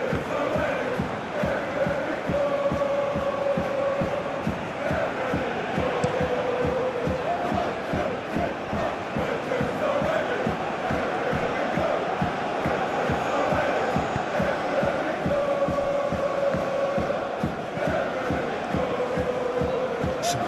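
A football stadium crowd in a video game simulating a Club Brugge versus PAOK Europa Conference League match keeps up a steady, dense roar with chanting for the whole stretch, loud and unbroken.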